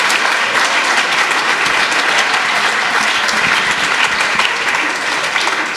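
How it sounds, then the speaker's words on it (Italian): Sustained, dense applause from a convention audience for Tommaso, the group's young volunteer treasurer, loud and steady throughout with no break. "Un applauso per Tommaso."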